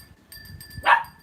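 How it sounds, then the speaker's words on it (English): A dog lets out a single sharp bark near the end, preceded by soft shuffling and faint background hum. "Tompel, stop barking."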